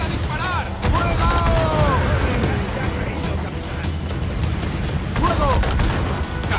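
Pirate ship cannons in Assassin's Creed IV: Black Flag fire in a ragged volley of heavy booms over rumbling sea-battle noise, while crew voices shout orders throughout.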